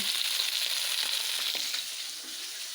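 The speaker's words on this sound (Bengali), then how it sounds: "মাছগুলো দেখো একবার ভাজা হয়ে গেছে যেহেতু অনেকটা মাছ তো দুবারে ভাজতে হচ্ছে" Fish pieces fry in oil in batches, giving a bright, steady hiss and sizzle with a few pops, close up, fading slightly toward the end, with no one speaking.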